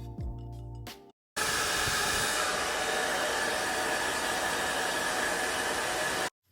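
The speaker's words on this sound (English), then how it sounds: "take my Babyless blow dryer and just set it to cool on the lowest setting" Babyliss blow dryer running on its cool, lowest setting: a loud, steady close-up whoosh of airflow that cuts in after a short pause and holds evenly before stopping at the end.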